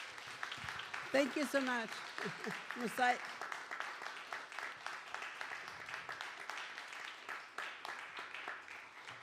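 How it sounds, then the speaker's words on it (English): An audience at an arts symposium applauds steadily for an invited speaker, a dense patter of claps lasting the whole stretch while someone speaks briefly over it near the start. "So please give a big round of applause to Marlene for her presence today."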